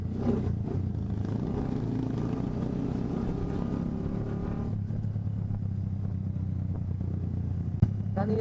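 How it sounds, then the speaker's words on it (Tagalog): A group of four motorcycles rides together on a Holy Thursday road trip toward Mauban, Quezon, their engines making a continuous steady drone that stays level and close with no talking. "Apat na motor po kami."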